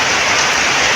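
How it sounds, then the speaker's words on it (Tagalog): Heavy rain pours down steadily over farm fields, a loud, dense hiss with no break in the brief moment heard. "Sobrang na guys lakas ng ulan guys."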